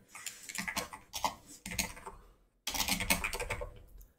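Quick bursts of close-up typing on a computer keyboard, clattering keys in uneven runs with a brief pause in the middle.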